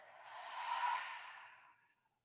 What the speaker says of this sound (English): Exhale out of the mouth.